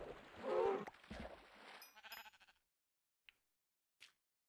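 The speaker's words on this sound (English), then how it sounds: "let me slaughter up some cows" Cows in the video game Minecraft give a few nasal, bleating moos up close, the calls fading out into silence, followed by two brief, sharp clicks.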